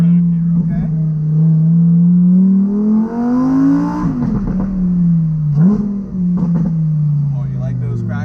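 A car engine revs hard, its pitch climbing and dropping over several throttle blips, with popping exhaust crackles between them, loud and close from inside the cabin as people talk over it.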